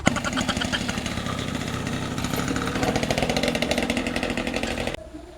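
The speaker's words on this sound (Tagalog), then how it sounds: "Ayos naman pala ang motor na yun" A motorcycle engine runs close by in a rural Philippine setting, a loud, rapid, buzzing putter held steady for several seconds before dropping off sharply near the end.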